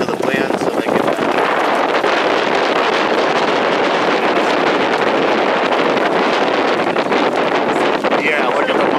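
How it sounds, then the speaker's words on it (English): Strong, steady wind roars across the microphone at a Trump boat parade on the water under dark clouds, a loud, unbroken buffeting rush that fills the whole stretch. "That wind is coming from behind."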